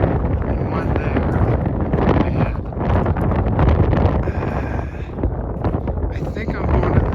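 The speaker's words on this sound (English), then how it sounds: "It's a little windy." Strong wind gusting over the microphone on a rainy trail near a stock tank, loud and continuous buffeting rumble that rises and dips, with a voice heard faintly beneath it.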